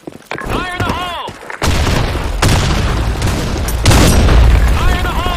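Explosions from a grenade-heavy shooter video game: loud, close, rumbling booms hit one after another and merge into continuous thunder, with a shouting voice near the start.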